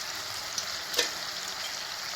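Whole spices such as cardamom and cloves sizzle in hot oil for a dum biryani tempering, a steady, faint frying hiss with a couple of small crackles and no talking.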